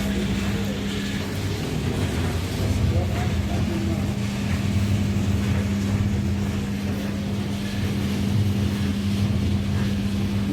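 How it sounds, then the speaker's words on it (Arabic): Small Chinese gas-fired roasting machine for sesame, peanuts and nuts, its motor running with a steady, continuous low drone and a constant hum, close and even throughout. "دي مكنة تحميص. ادي الغاز اهوت ده عشان الشعلة، وادي الموتور ده عشان الدوران."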